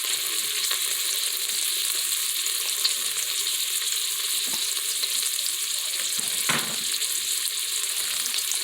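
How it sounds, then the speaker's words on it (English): About a pound of pork sausage fries in an Instant Pot, a steady close hiss of sizzling fat with small pops and a few brief scraping stir sounds. "Next thing we're going to put in there is about a pound of pork sausage."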